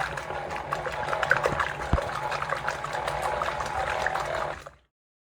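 Homemade butter being churned from cream in a machine as buttermilk separates out, a soft wet sloshing and churning with gurgles and a thump, running steadily before cutting off abruptly near the end.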